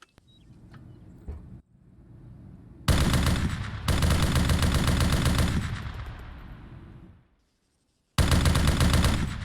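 A PKC machine gun in the video game ARMA 3 fires long, loud sustained bursts, broken by short pauses and a clean stop before a final burst begins.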